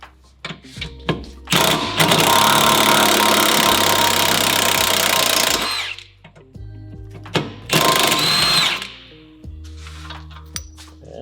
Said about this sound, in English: We're going to use our high torque impact gun just to make it a little quicker.